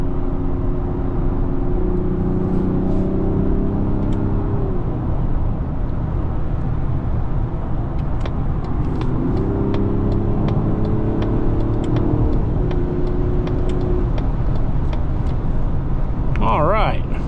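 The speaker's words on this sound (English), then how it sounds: "Sixth gear, just hovering along here in sixth gear. Let's go ahead and downshift." A 2025 Mazda CX-70 engine hums steadily inside the cabin, with its pitch rising and falling on gear changes during a downshift from sixth, beneath a talking voice.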